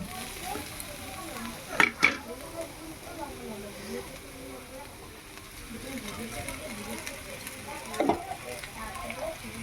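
Egg stirred in a pan while cooking chowmein: a soft sizzle with a few distinct spatula scrapes and knocks, near, while a person talks quietly over it.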